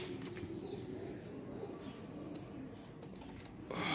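Domestic pigeons cooing nearby, soft low repeated coos over faint background hiss, with a few brief rustles and a louder swell of noise at the very end.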